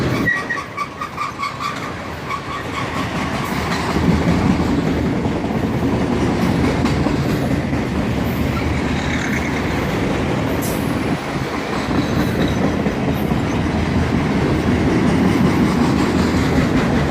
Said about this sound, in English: This train also has another locomotive running somewhere in the middle of the train as distributed power